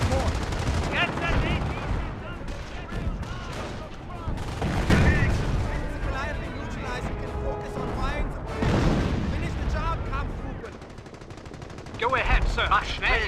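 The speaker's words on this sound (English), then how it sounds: "We are taking fire!" Battlefield gunfire from Company of Heroes during Operation Market Garden: repeated rifle and machine-gun bursts with heavier booms, mixed with shouted voices and game sound throughout.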